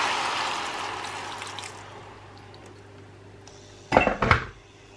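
Water from a kettle pours into a hot pan of stir-fried vegetables, bringing a broad, hissing sizzle that swells and then fades. Near the end come two loud, close clanks of metal cookware.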